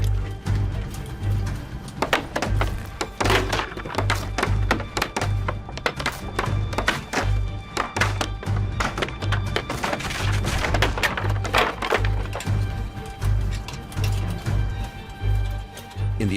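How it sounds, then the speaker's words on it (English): Wooden toll gates are smashed in a reenactment of 1840s West Wales night raids: a steady run of heavy wooden thunks, cracks and splintering blows, close and loud over a low background hum. "they smashed toll gates"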